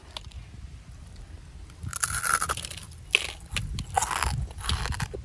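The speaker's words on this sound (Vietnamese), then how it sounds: "Nghe giòn đã vậy." Crunchy fried shredded cassava cake is bitten and chewed up close, giving several loud, crisp crunches and crackles in bursts with quieter chewing between them and no talking.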